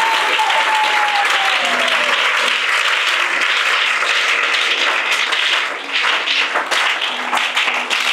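Loud, sustained applause from a church congregation fills the space continuously, dense clapping with a brief dip near the end before rising again.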